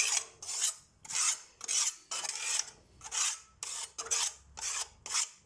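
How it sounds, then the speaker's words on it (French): A plaster knife scrapes dust off parts of a Rika Evo Aqua pellet stove in about ten quick, rasping strokes, each separated by a brief pause, close and steady. "je lui donne un petit coup de couteau à plâtre"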